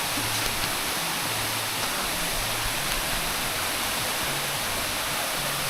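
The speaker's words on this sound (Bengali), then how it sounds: "এখান থেকে দেখতে বলতে ঝর্ণাটা হচ্ছে এরকম" Waterfall at Debotakhum in Bandarban, a steady, dense rush of falling water that fills the whole clip at an even, constant level, with no voices.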